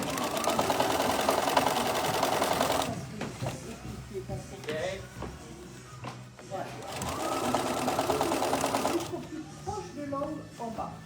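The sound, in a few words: sewing machine stitching a tote bag with French seams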